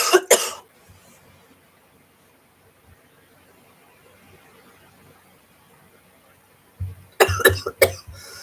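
A few sharp coughs at the start, then near silence with faint background hum, followed by another burst of harsh, close coughing.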